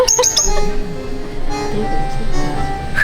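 Parrot inside a convenience store giving a few short, sharp calls near the start, then quieter room noise with faint chirps.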